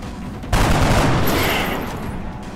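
Gunfire in the tactical game XCOM 2 during a rescue mission, a sudden loud burst of automatic fire erupting after a brief quiet moment and roaring on in a dense rattle before slowly fading.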